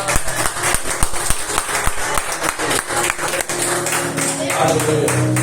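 Church congregation at a Friday service applauding: steady crisp clapping from a room full of people, moderately loud, with voices mixed under it and a sustained tone entering toward the end.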